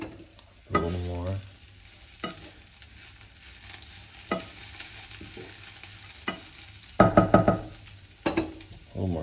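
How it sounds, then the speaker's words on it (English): A spoon stirs a one-pot meal of leftovers in a small kitchen, giving intermittent scraping bursts over a low, steady sizzle, with louder clustered strokes near the end and no voices. "Stir that a little more."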